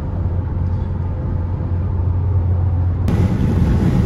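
A Toyota Camry 3.5 cruises on an American highway, heard from inside as a steady low engine and road rumble with constant tire noise and a brighter rise in road hiss partway through.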